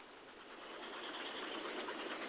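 Steam-era train running downhill on a railway line south of Masbury, near Shepton Mallet, heard as a steady broadband rumble and rush that swells slightly louder, with no talking.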